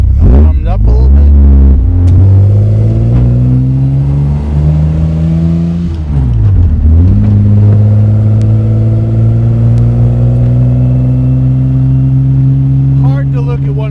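A 1956 Jaguar XKSS recreation built by Lynx pulls away on an open road, its engine loud and close, revving up through the gears with rising pitch, a brief dip at a gear change, then settling into a steady drone.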